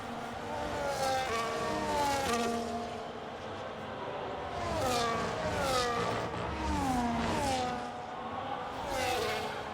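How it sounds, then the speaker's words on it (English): Formula 1 cars racing at the Circuit of the Americas in F1 25, a train of high-pitched engines wailing past in overlapping waves, rising and falling as each car passes close by. "with Baker Gaming leading the pack after that beautiful overtake on BAM"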